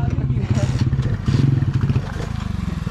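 Motorcycle ridden fast along a road in Afghanistan, a steady engine drone with revving pulses passing close by, mixed with people talking nearby.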